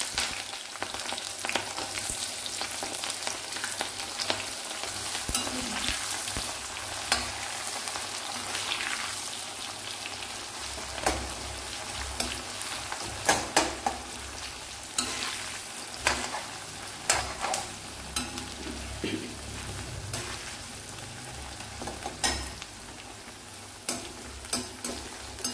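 Green chilies and onion fry in hot oil with a steady sizzle, while a spoon scrapes and stirs the pan in irregular, clattering strokes throughout.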